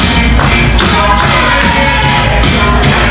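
A wrestling crowd at a 2015 UWA Elite full show claps and cheers in a dense, continuous wash of applause that fills the hall for the whole stretch.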